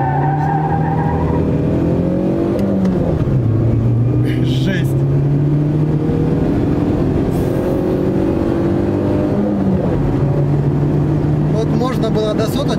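A VAZ 2114 car with an overheated engine hums steadily as it drives, its pitch dipping and rising as it slows to turn around, with someone talking over it.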